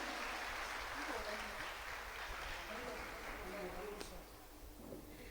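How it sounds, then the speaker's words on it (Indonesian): Audience applause in a hall after a string orchestra performance, a steady broad wash of clapping that holds throughout and eases slightly near the end. "Kita berikan tepuk tangan sekali lagi."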